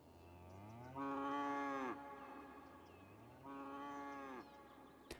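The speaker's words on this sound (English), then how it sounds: "We are right by Corin's farm district, so you can definitely hear the cows." Two long, loud cattle moos from a cow in a video game's city farm district, each lasting about a second, with a quiet pause between them and no one speaking.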